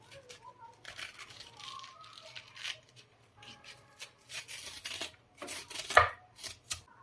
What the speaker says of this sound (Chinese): 再用个勺子把里面的芯给它去掉